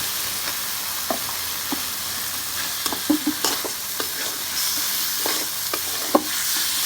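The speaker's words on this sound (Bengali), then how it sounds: "এবার আমি মশলার সাথে চিংড়ি মাছ দিয়ে দেবো" Shrimp sizzle in a pan with a cooked-down spice paste of turmeric and green chili for a village-style taro stolon dish. A steady frying hiss runs throughout, with intermittent scrapes and clinks of stirring close by.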